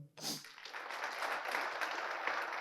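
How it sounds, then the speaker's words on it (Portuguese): A church congregation bursts into applause after a worship song during a service, a short sharp onset followed by steady, fairly dense clapping that holds for a couple of seconds. "Aplauda o Senhor"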